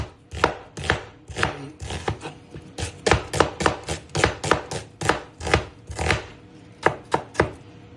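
Onions are chopped on a board for koi fish dopiaza in quick uneven bursts of sharp knife thunks, dozens of close, crisp strikes with brief pauses between runs, and no voices.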